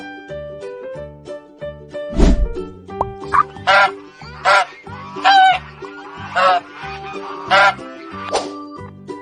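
A goose honks about eight times in a steady, evenly spaced series of loud, nasal calls, close and clear above a soft rhythmic music backing.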